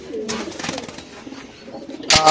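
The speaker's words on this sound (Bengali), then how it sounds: "এখানে যা আছে আমার সব থরের কবুতর ভাই" Pigeons coo in low, throaty bursts close by, with rustling and a sudden sharp flutter near the end.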